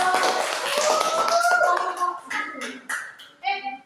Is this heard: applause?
yes